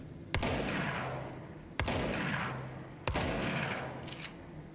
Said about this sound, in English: here's my shotgun spread